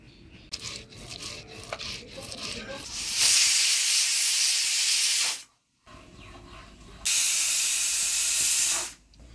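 A pressure cooker of mutton, cooked village style, vents steam in two loud, sustained hissing bursts of about two seconds each, separated by a brief silence, with faint kitchen noise before them.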